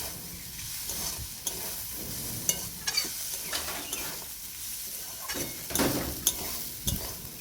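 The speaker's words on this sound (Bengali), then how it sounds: "একবার ভালো করে নাড়াচাড়া করে মিক্স করে নেব।" Vegetable roll filling with chopped coriander being stirred in a pan, soft sizzling under repeated scraping and tapping of a spoon against the pan, close and fairly quiet, no voices.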